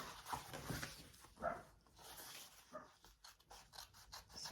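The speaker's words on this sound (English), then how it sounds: "barking dogs, they're out there playing." Several dogs bark outside while they play, heard as intermittent, fairly distant yaps and barks over a quiet indoor background.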